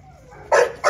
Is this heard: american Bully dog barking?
yes